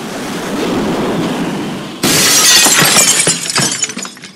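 A tornado in the Tornado Fields Unity game roars up abruptly halfway through, a loud broadband rushing wind with crackling debris-like bursts, following a quieter rumbling wind bed.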